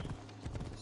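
Horse hooves clip-clop in Assassin's Creed Odyssey, a short run of soft, rapid hoof beats over a steady low hum and background game sound.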